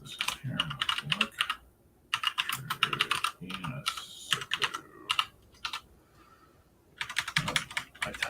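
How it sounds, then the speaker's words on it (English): Bursts of fast typing on a computer keyboard, close and crisp, come in quick clattering runs separated by short pauses, with no one talking. "I typed that"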